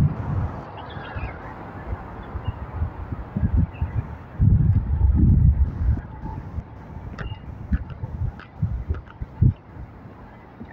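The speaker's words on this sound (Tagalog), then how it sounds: "Lakas ng hangin." Gusty wind buffeting the microphone in low rumbling surges on a seaside promenade at Aldrich Bay, Shau Kei Wan, Hong Kong, with faint bird chirps in the background.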